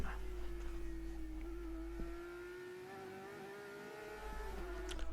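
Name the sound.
Porsche Supercup race cars lapping Imola circuit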